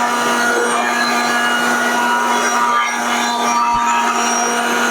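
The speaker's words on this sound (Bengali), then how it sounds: "এই দেখো ব্লেন্ডারটা নিয়ে কেমনে খেলতেছে" High-power electric blender running steadily, a loud continuous motor whine with a strong hum and grinding texture that holds throughout, with no talk over it.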